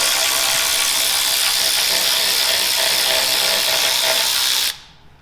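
A ratchet with a swivel socket removes a 10 mm bolt during an oil pan gasket job on a Chevrolet Silverado or GMC Sierra 4.3 V6. A loud, steady mechanical whirring runs continuously for several seconds, then cuts off abruptly.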